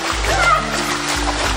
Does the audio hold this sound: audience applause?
no